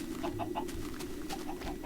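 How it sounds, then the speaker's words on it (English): Chickens in the video game Minecraft cluck in quick, repeated bursts over a steady electronic hum, with no one talking. "There's so many chickens."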